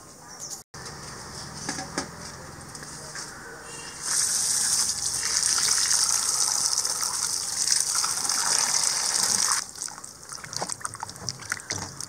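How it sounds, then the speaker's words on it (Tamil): Water gushing and splashing as sweet potatoes are washed clean of soil, a loud steady rush in the middle stretch with lighter sloshing and handling before and after. "நல்ல ரெண்டு மூணு வாட்டி நல்லாவே கழுவி எடுக்கணும்."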